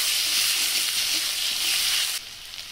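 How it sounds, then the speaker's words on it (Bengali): Chopped onions sizzle in hot oil in a pan while a fish curry with pointed gourd is being cooked, a steady loud close hiss that drops slightly near the end, with no talking. "কেটে রাখা পেঁয়াজ দিয়ে দিচ্ছি। পেঁয়াজটা হালকা করে ভেজে নেব।"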